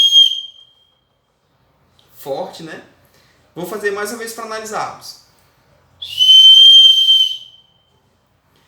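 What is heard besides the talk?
whistle blown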